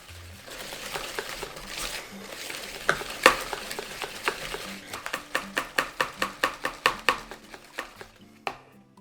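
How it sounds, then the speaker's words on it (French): Savory cake batter of flour and baking powder being stirred by hand in a bowl, a soft scraping swish that gives way to a run of sharp, evenly spaced taps and knocks against the bowl, close and fairly quiet. "Et on vient mélanger à nouveau jusqu'à l'obtention d'une pâte bien homogène."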